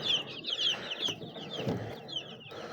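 Brahma chicks cheep and cluck continuously while being fed, with rapid high chirps overlapping one another close by and a few soft thuds in between.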